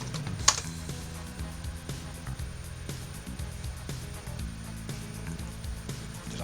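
Typing on a computer keyboard, a steady run of light clicks close by over a low background hum, with one sharper click near the start.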